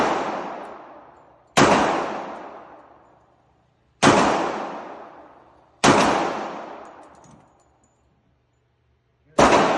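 Five sharp, loud gunshots from a Glock 21 .45 ACP pistol, fired at an uneven pace of roughly one every two seconds. Each crack is followed by a long decaying echo, suggesting an outdoor range.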